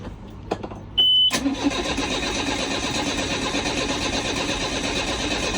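Sailboat diesel engine cranking after a couple of clicks, then catching into a loud steady rumbling idle that continues to the end.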